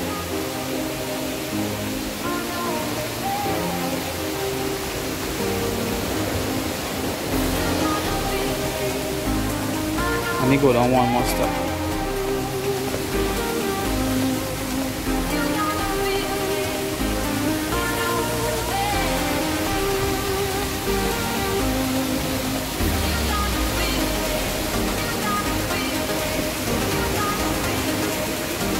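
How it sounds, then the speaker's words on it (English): A waterfall at a coastal cove rushes as a steady broadband roar throughout, heard from close by along a hiking trail, with a person speaking briefly over it. "So this takes you out to the waterfall. Are you hearing it?"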